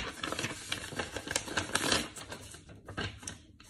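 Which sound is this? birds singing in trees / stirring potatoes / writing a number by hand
writing a number by hand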